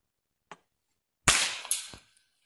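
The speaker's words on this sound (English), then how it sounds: "Let's see if we get to shoot this time." Homemade muzzleloader firing a BB outdoors: a faint tick, then a single sharp pop with a short hissing burst, followed by a brief clack, all fairly quiet and alone.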